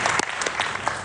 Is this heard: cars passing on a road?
no